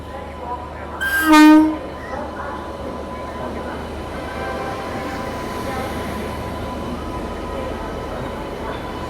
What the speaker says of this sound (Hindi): भाई बुंदेलखंड एक्सप्रेस शाम 4 बजे चली थी और अभी पहुँच रही है